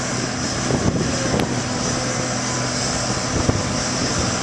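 Road rollers working right behind a paver laying cold mix asphalt over an emulsion membrane, a steady low engine drone running throughout with a few faint clanks.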